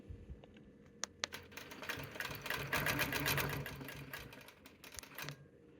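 A longarm quilting machine sews quilt binding along a ruler, giving a rapid mechanical needle chatter that builds to a sustained run and then eases off, with a few sharp clicks near the start.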